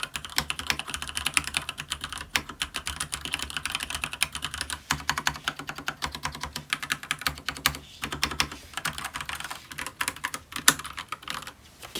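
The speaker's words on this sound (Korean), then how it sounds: "그러면 키캡을 키보드에 꽂아 보도록 하겠습니다." Dense plastic clicks and taps clatter continuously at close range as OEM-profile keycaps are pressed onto a Monstargear Ninja87 BT mechanical keyboard with Gateron yellow switches, quick irregular presses with no talking.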